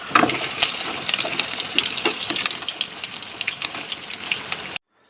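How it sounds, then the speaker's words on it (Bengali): Potatoes with salt and a little turmeric fry in hot oil in a wok, a close, crackling sizzle with scattered pops that cuts off abruptly near the end. "আধা ঘন্টা পর এদিকে আমি কড়াইতে তেল গরম করে আলুগুলো ভেজে নিচ্ছি।"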